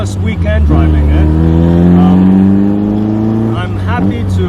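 A 1965 Triumph Spitfire Mk 2 engine hums loudly while driving, with a steady drone that rises in pitch through a gear as it accelerates, then settles back to a lower note.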